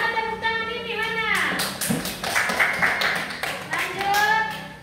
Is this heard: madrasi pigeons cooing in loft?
no